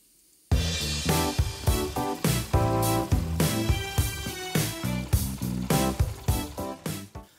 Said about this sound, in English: And a bass.